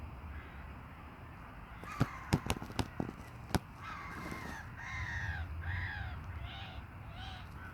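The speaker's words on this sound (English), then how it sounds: "Seagull." Gulls cry out beside a carp-fishing lake, a few loud, drawn-out harmonic calls in the second half after a handful of sharp clicks, over steady outdoor background noise.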